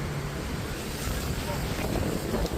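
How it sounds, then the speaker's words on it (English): Steady wind at Clearwater Beach, Florida roars and buffets the microphone, a constant broadband rush with low rumbling gusts and no voices. "It is a really cool windy day, no shade needed."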